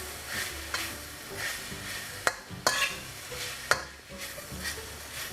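Minced pork stir-fried in a pan for northern Thai larb, with steady sizzling and a spatula scraping and stirring, plus a few sharp clacks of utensil against the pan, close and fairly quiet.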